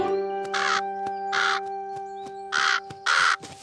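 Crows caw near apricot trees in a cartoon, giving four loud, harsh calls in a row with short gaps, close and clear over a steady background tone.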